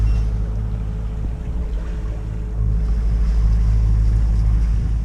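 A sailboat motors into a headwind on the sea off the Italian coast between Agropoli and Palinuro, its engine a steady low drone under rushing wind and water.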